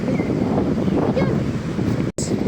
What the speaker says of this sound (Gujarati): બહુ બધા મોજા છે